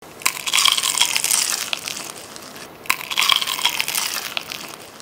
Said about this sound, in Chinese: 这清脆的声音，仿佛钢化玻璃被炸碎了满地